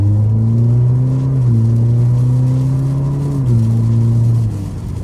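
Alfa Romeo Giulia 2.0L engine under hard braking, revs stepping up in quick blips with each downshift, a steady close engine drone with no talk over it.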